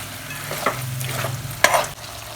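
Steady sizzling of duck meat frying in a pan, with a few sharper crackles and stirring scrapes, close and continuous.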